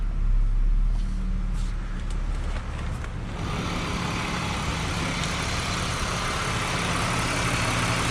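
A 2001 BMW 325i E46 wagon engine idles steadily and close, a continuous low rumble with an even tone that holds throughout and has no voices over it.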